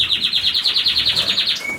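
Colour canaries in a full aviary flight give a continuous rapid chirping trill, repeated quick notes in a steady rhythm, fairly close and clear with no talking.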